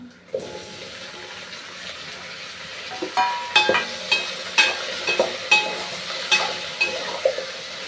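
Cut potato pieces go into a hot pot for aloo dum biryani, starting with a sizzle, then a series of sharp clattering knocks and stirring scrapes at a steady rhythm over a soft frying hiss.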